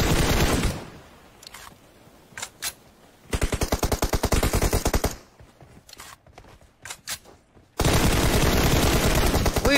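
Gunfire in PUBG on the Miramar map: loud automatic bursts and fast rattling volleys cut in and out, with a few single shots between them and long sustained firing near the end.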